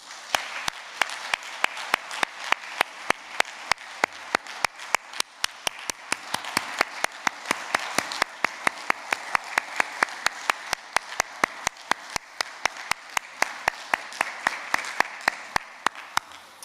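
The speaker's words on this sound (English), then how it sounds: "the rest are going to give you a very loud round of applause" A school assembly audience gives a long round of applause for a departing final-year primary class, a steady, even patter of many hands with sharp individual claps standing out, sustained at moderate level throughout.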